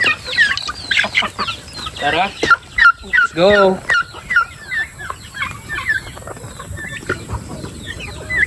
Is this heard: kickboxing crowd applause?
no